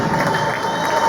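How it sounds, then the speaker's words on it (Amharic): A crowd cheers and claps together in a brief, lively burst of whoops and applause. "ለእግዚአብሔር ክብር አጨብጭቡልኝ።"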